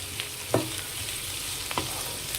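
Onions and tomatoes with turmeric powder cook in a pan for a chicken curry, a low steady sizzle broken by a couple of soft spoon-stirring knocks.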